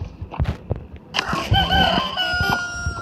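A video game rooster in Poppy Playtime Chapter 3 crows in a long, drawn-out cock-a-doodle-doo with a bright, slightly synthetic tone, preceded by a few short clucks and knocks.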